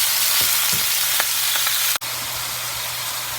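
Ground meat sizzles and fries steadily in a hot wok, a continuous close hiss with a few soft scraping stirs and one brief dropout near the middle.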